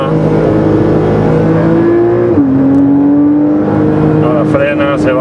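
A Porsche Cayman S PDK races around the Portimao circuit, its engine loud and close with a steady high drone. The pitch drops sharply as it brakes and downshifts, then climbs again while someone talks over it.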